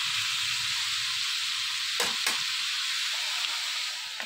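Onion mixture for a dried fish curry frying and being stirred in a pan, a loud continuous sizzle with two quick spatula scrapes midway, close and without talk.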